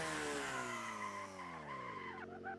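A tuned 444-horsepower Mazda RX-7 with pop-up headlights strains up a steep hill in a racing video game, its engine droning in a steady, sagging tone with tire squeal layered over it, dropping in pitch near the end.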